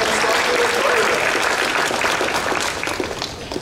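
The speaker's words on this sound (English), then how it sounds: "One more round of applause for Panty" Sustained audience applause at an anime convention costume contest, a dense, loud wash of clapping hands that carries steadily throughout before easing slightly at the end.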